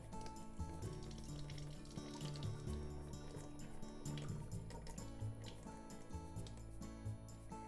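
Water pours and splashes steadily as rice-rinsing water drains from a container, a continuous close trickle with small drips and sloshes.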